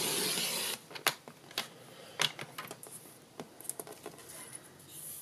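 A new Stampin' Up paper trimmer slicing a narrow quarter-inch strip of paper, with soft crisp clicks and light scraping taps as the blade runs along, close and quiet.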